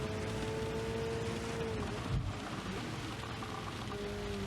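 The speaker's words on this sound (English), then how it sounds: "we want this rain to just break up a little bit and give me that chance" Rain falls during a race at High Speed Ring in the video game Gran Turismo 7, a steady soft hiss blended with a low engine drone and a faint rumble partway through, no talking.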